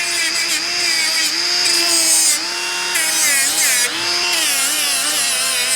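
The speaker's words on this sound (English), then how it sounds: "If you got to do something heavy duty, then you get the bigger grinder." A large angle grinder runs steadily under heavy load, its high whine wavering and dipping as it bites into work, loud and close throughout with no talking.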